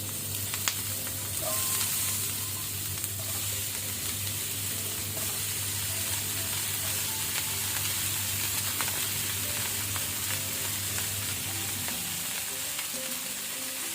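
Chopped cauliflower, about 500 grams, sizzling steadily in hot oil with pepper, a continuous close frying hiss with faint stirring clinks, no talk.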